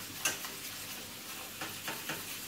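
Vegetable bake sauce cooks in a pan over turned-down heat with a steady soft sizzle, while a utensil stirs and scrapes against the pan in several brief strokes, close up and without speech.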